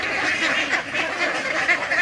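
A flock of ducks keeps up steady overlapping quacks nearby, dense and continuous with no pauses.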